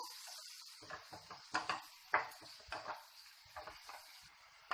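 Bottle gourd pieces tossed with salt in a pan, stirred with a utensil that scrapes and knocks against the metal in a quick irregular series of close taps over a faint sizzle.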